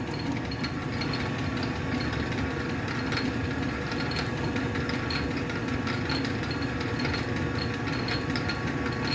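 A metal lathe running slowly in back gear while cutting a 1-inch 8 national coarse thread: a quiet, continuous mechanical whir with faint, regular ticks and clicks.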